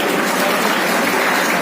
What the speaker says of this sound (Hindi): तालियां उतनी जोर से नहीं बजी जितना ज्यादा ये अहम